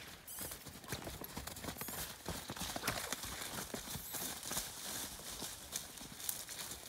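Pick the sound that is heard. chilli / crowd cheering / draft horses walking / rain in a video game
draft horses walking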